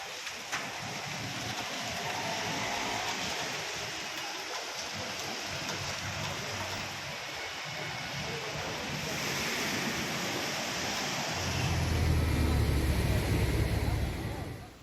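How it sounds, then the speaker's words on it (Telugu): Floodwater running knee-deep across city roads after a heavy downpour in Hyderabad's Cantonment and Begumpet areas, a broad continuous rushing wash that grows heavier and deeper near the end, with faint voices in the background. "మోకాళ్లలోతు నీరు రహదారిపైకి చేరడంతో వాహనదారులు ఇబ్బంది పడ్డారు"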